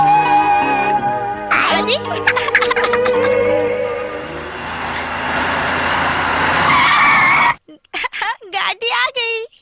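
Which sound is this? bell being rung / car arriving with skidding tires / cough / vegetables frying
car arriving with skidding tires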